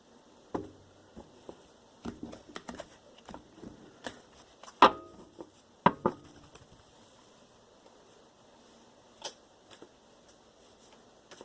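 A tarot deck is cut and handled up close, producing scattered soft taps, flicks and card snaps in irregular bursts, then fading to near quiet.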